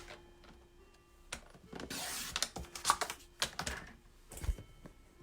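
Card stock being cut to 4 1/4 inches for a basic card backing, with a run of close, crisp slicing and clicking strokes, brief sharp ticks and a broader scraping pass midway, no talking.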